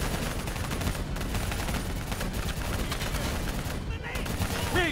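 In the Call of Duty Black Ops 3 campaign, weapons fire at an APC and a VTOL aircraft. Sustained automatic gunfire roars continuously, loud and close, with dense bursts layered over one another. Voices can be heard faintly beneath the shooting.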